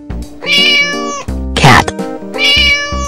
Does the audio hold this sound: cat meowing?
yes